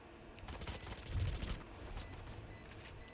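Rapid gunfire from a first-person shooter game during a dueling match, a dense burst of shots peaking near the middle with steady background game noise throughout, no talk.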